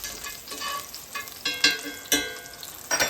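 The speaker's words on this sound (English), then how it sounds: "we're going to get these garlic cloves nice and toasty in there" Garlic cloves toasting in hot oil in a pan while being stirred around, a soft steady sizzle broken by scraping stir strokes at irregular intervals, close and with no talking.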